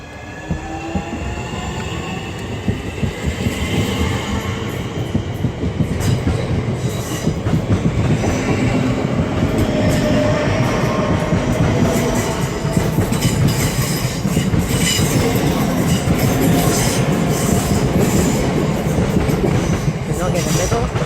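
A Class 465 electric train, unit 465032, passes through Charlton station with a loud, steady rumble, rhythmic wheel clatter and faint squeal for about twenty seconds. Other sound is faint.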